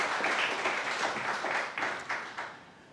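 Congregation applause in a Korean Presbyterian church celebrating newly appointed deaconesses, dense clapping that thins into a few separate claps near the end.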